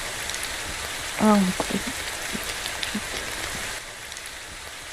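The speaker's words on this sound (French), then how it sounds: "il pleut dehors" Rain falls outdoors as a steady, diffuse patter throughout, with a brief voice speaking near the start and faint scattered taps over the continuous wash.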